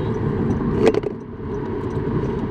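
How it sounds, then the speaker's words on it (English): Car interior on the move with a steady low rumble of engine and road noise, a brief louder mechanical clunk and rattle near the middle as the transmission is strained, then the drive continues evenly. "I don't know what I'm doing to my car right now. I think I just ruined my transmission."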